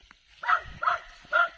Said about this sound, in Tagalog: May aso kasi. May tahol.